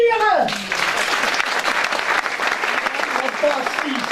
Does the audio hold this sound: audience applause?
yes